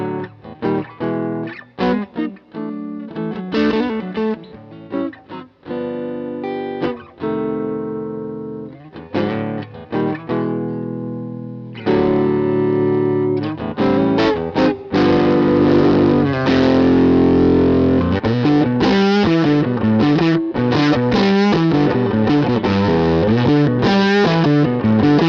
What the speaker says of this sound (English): let's check out some isolated guitar sounds from our demo track recorded using the NXN5.